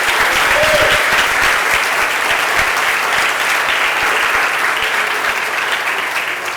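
A church congregation breaks into loud, sustained applause during an evening service, dense continuous clapping filling the room at close range, with a voice faintly audible underneath.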